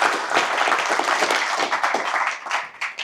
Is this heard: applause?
yes